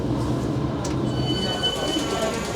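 A South Western Railway train in London gives a steady, loud rumble of rolling wheels with faint high squeals from the rails throughout.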